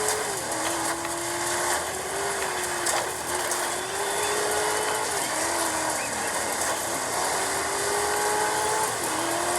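Engines of many race cars on a dusty track in the Dirt 5 video game, a sustained droning whine that rises and dips in pitch as gears shift, steady and loud throughout.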